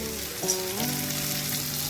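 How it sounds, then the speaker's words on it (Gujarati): Hot oil sizzles and crackles steadily as sprouted moth beans are tipped in, a dense close frying hiss without talk. "હવે આપણે જે મઠ હતા તેને આપણે એડ કરી દેવાના છે"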